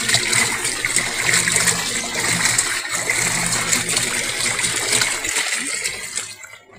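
Dirty laundry rinse water poured out during handwashing with homemade liquid detergent, a loud steady gushing splash that tapers off at the end.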